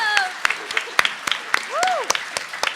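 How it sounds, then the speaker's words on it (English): Scattered, uneven clapping from a panel audience comes in sparse sharp claps over a murmuring room, with whistles and whoops rising above them. "Keep clapping."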